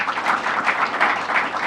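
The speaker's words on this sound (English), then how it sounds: "Let's give them a round of applause as well." Crowd of housing authority members and officials clapping at a state governor's affordable housing announcement, a steady dense patter of many hands filling the room, moderately loud with no talk over it.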